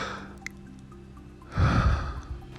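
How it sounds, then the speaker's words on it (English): A man's breathing, heard alone with no talk: quiet, soft airy breaths at first, then one louder, fuller exhale or sniff-like breath near the end. "a tweet that contained nothing but the sound of him breathing"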